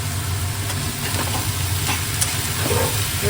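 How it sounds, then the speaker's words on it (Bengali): Onions fry in a pan while a Bengali mutton curry is cooked, making a continuous, fairly loud sizzle over a low hum, with faint stirring. "এবার পেঁয়াজটাকে একটু ভালো করে ভেজে নেবো"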